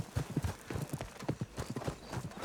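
Horse hooves clip-clop at a steady trot in a video game played on an Asus ROG Strix G15 laptop, close and continuous, with a brief whinny-like tone mixed into the rhythmic hoofbeats.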